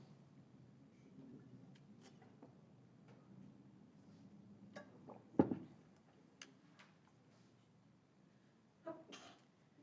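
A single sneeze in a quiet lecture hall during a chemistry class, sharp and brief, standing out against low room murmur and a few scattered small ticks and rustles.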